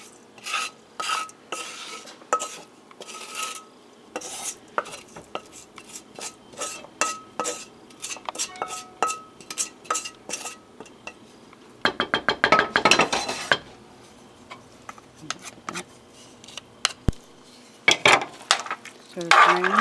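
Meat, onions and garlic for Irish stew are stirred in a pot, with rhythmic scraping and clinking of a spoon against the metal, close and moderately loud, including a burst of rapid rattling midway.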